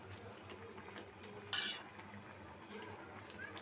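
Big pieces of katla fish drop into a simmering fish-and-cauliflower curry, giving one short, splashy clatter midway. Quiet kitchen background is heard before and after it.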